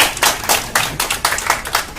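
A small group claps in quick, bright bursts, the hand claps loud and close with a lively, slightly uneven rhythm.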